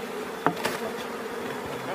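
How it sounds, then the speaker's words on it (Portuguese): Honeybees, mostly drones, buzz steadily around a frame lifted from a hive, a continuous close drone with a couple of brief louder passes near the start. "Isso aqui, ó, maioria zangão."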